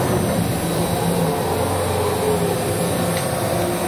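A 2014 Haas VF-6SS Super Speed 4-axis CNC vertical mill with an HRT 210 rotary runs at high speed with a fairly quiet, steady whirring hum and a faint high whine, no talking.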